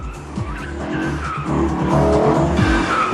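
A Hartge 5.5 BMW E46 driving hard on a wet race track, its engine roaring loud and close while tires skid and squeal continuously.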